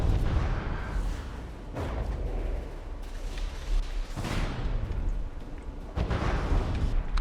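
Warship guns and missiles firing during a naval battle in From The Depths, heavy booms and rumbling blasts rolling one after another over a continuous low roar, with sharp bursts near the start, middle and end.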